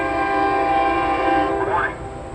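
A SEPTA commuter train, number 5219, sounds a long, loud, steady multi-tone horn blast close by at the Lower State Road grade crossing, the chord bending and fading near the end as the train passes.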